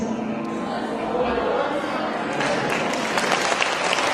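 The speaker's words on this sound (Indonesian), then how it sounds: "Tepuk tangan." Students at a motivation day event applauding, dense continuous clapping from a crowd throughout, with some chatter mixed in.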